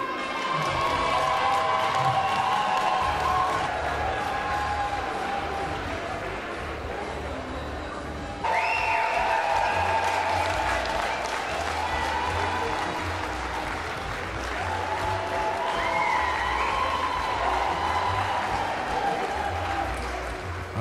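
Ringside crowd at a Herning dog show applauding steadily through the whole stretch, a dense continuous wash of clapping with cheering mixed in, briefly dipping and then swelling again.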